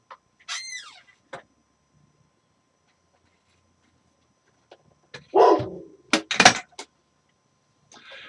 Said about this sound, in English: the neighbor's big-ass dog won't shut the fuck up